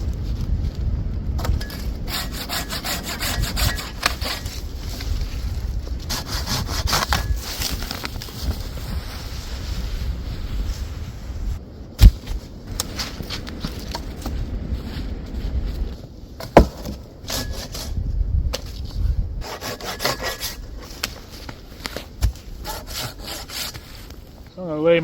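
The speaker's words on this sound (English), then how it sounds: "This is my favorite saw to use." A hand saw rasps steadily through wood at a snowy Appalachian campsite, close by, in repeated back-and-forth strokes with brief pauses and a couple of sharp knocks.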